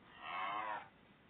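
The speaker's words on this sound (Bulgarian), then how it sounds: "Каза чао тази крава." Cow in Minecraft, a blocky video game, giving a single short, low, drawn-out moo that fades within a second over a faint background hiss.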